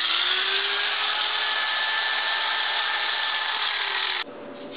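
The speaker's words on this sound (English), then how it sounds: "I've got an angle grinder here that should do the job pretty good." An angle grinder cuts through metal on a dirt bike, a steady high whine with a rough grinding edge that runs evenly for about four seconds, then cuts off abruptly, leaving a quieter hum.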